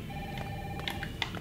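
Telephone ringing inside the Wanted: Dead video game, a short electronic ring rising over a steady game background hum, with brief tonal bursts near the end.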